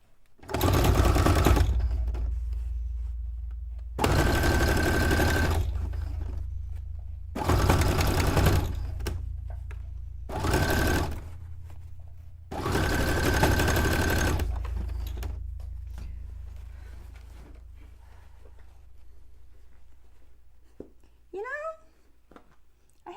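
A sewing machine stitches a curved seam on a cone-shaped cape or dress in five loud, close runs of rapid whirring, separated by short pauses. Faint chirping sounds follow near the end.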